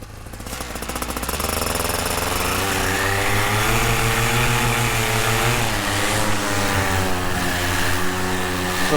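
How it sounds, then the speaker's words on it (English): A huge engine on a paramotor revs up to full throttle for takeoff, a loud steady roar with rising harmonic drone that builds over the first seconds and then holds strong and close throughout, with no talking. "Motor is purring nicely behind me."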